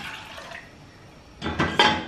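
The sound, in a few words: pouring two cups of water into a pot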